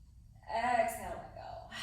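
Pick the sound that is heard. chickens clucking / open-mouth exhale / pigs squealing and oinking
open-mouth exhale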